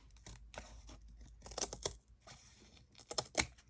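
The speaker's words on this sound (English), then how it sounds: "take my scissors and trim that side up a little bit" Scissors trim the edge of an altered book page for a junk journal cover, a few close crisp snips and paper rustles in short bursts with quiet pauses between.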